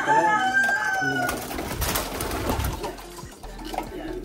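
Pigeons cooing close by, soft throaty calls amid rustling and shuffling, with a faint voice in the background at the start.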